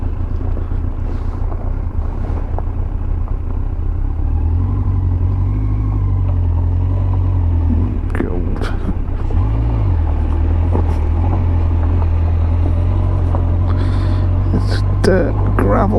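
A Yamaha FZS1000 motorcycle rides a dirt gravel road, its engine a steady low drone with continuous wind buffeting on the mic, plus crunching and rattling bursts near the end.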